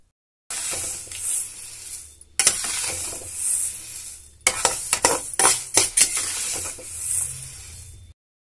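Dry, gritty scraping and rustling as a spoon stirs dry flour roasting in a pan, with clinks against the metal and short pauses between strokes.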